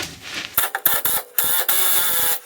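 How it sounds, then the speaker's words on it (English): Ratcheting torque wrench working a 21mm nut loose on the rear suspension of an R50 MINI, a run of sharp, close mechanical clicks and rasps in quick irregular bursts. "It'll make your life a lot easier if you have a decent torque wrench to try and get this off."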